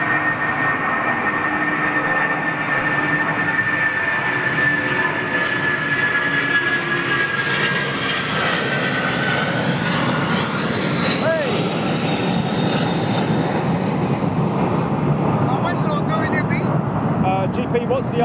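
A Boeing 747 jet takes off at Heathrow, its engines giving a loud, steady roar that holds for the whole stretch and slowly shifts in pitch as the heavy aircraft climbs away.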